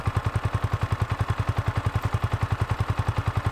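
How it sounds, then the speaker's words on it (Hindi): A Yamaha R15M motorcycle idles in neutral close by, its engine giving a steady, even, rapid thumping pulse that holds constant for several seconds with no voices. "ये है इसका आइडियल साउंड"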